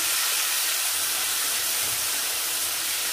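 Amaranth stems frying in a pan with tomato during Tamil home cooking, a steady broadband sizzle and hiss held close and even throughout, with no talk over it.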